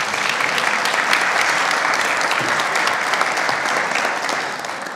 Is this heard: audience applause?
yes